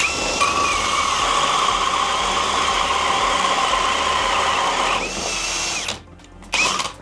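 A ProCraft CD20B cordless drill driver runs steadily with a 76 mm hole saw crown, a close whining motor hum for about five seconds, then drops, stops briefly and spins up again.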